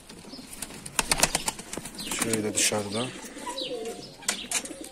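Mardin pigeons flutter and coo close by, with a burst of wingbeats followed by soft repeated coos, while someone talks intermittently over them.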